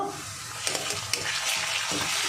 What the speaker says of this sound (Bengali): কাঁচা গন্ধ যাওয়া পর্যন্ত আমি এই পেঁয়াজ রসুন আদাটা একটু কষিয়ে নেব।